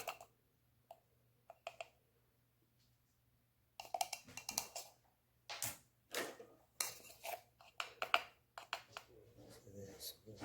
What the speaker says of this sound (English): And we're going to do a teaspoon of baking powder.